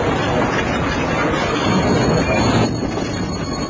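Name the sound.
narrow-gauge train running on the Kaszó forest railway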